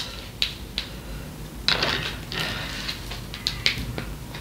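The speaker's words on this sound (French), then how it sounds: "Alors, je prends 4 cartes." Oracle cards being drawn and handled during a tarot-style reading, giving soft intermittent papery snaps and slides, several quick crisp flicks spread over a few seconds, close and fairly quiet.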